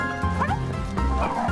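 A dog gives a few close bow-wow barks mixed with yips and a slight whimper over steady background noise, with a faint voice in the mix.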